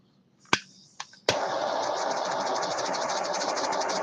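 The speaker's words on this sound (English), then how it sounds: "We want to go ahead and throw a torch on it and get it nice and warm." A handheld torch heating a joint: a couple of sharp clicks as it lights, then a sudden steady hissing roar of flame that holds loud and close.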